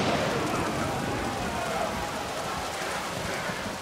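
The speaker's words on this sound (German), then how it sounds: "wurde die Armee von einem schrecklichen Sturm getroffen" Heavy storm rain pours steadily in the video game Age of Empires 4, a dense hiss that stays loud and continuous throughout, with faint talk beneath it.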